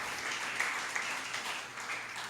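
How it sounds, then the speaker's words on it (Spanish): A church congregation claps in praise during a worship service, a brief burst of dense, lively applause from many hands at moderate distance, steady throughout. "Dele un aplauso al Señor."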